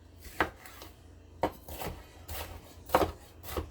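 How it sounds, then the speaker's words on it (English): A knife chopping vegetables on a board for sofrito, a handful of distinct close thunks spaced irregularly apart with soft scraping between them, with no talking. "So it's just doing the little chopping."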